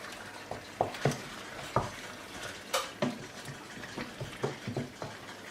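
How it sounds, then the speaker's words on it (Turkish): Chicken with mixed dried herbs such as thyme, mint and basil stirred in a pan, a soft sizzle under irregular spoon scrapes and clinks against the pan, close and moderately loud. "Biraz daha karıştırıyorum artık."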